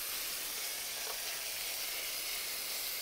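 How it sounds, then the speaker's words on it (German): Pork tenderloin sears in a hot pan, giving a steady, dense, close sizzle with constant frying hiss throughout and no talk. "Wir wollen die jetzt erstmal nur anbraten."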